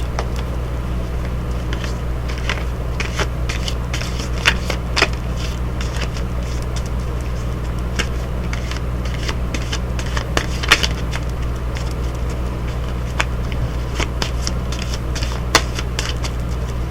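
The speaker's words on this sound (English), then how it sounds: "Shuffles." A Cosmic Tarot deck is shuffled by hand at close range. Irregular papery riffles and snaps repeat steadily for about seventeen seconds over a low background hum, with no talking.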